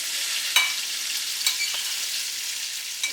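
Chopped onion and sweet peppers frying in hot oil for Jamaican brown stew chicken, a bright, continuous close sizzle with a few faint clicks of a utensil.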